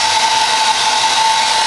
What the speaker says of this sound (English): This is a dryer that I don't have the cold